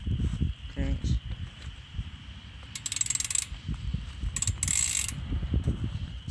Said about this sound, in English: I'll give you a quick little hub sound right now.